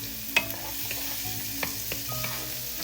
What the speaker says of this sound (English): we're just gonna start sauteing this until it softens up